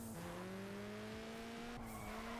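A 2J engine in the racing game Juiced 2 drones steadily with a rising, humming tone and small pitch shifts between gears, heard alone as a continuous loud game engine sound.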